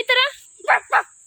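A person imitates a dog: one short voiced yelp followed by two quick breathy, huffing barks, close and fairly loud.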